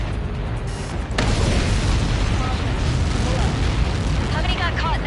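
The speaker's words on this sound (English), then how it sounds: "How many got caught in that explosion?" A missile impact explodes in the Ace Combat 7 flight combat game, a sudden loud boom after a short quieter lead-in, followed by a sustained heavy rumbling roar that fills the rest of the moment.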